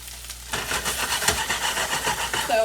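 The white parts of green onions are tossed into a heavily oiled pan, and a steady, close sizzling hiss starts half a second in and holds throughout.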